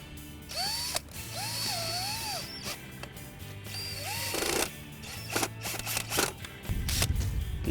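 A ratchet clicks in quick bursts as screws are driven in while a Bestop Supertop is installed on a 2007-or-newer four-door Jeep Wrangler JK Unlimited, with metallic squeaks between the close, repeated bursts.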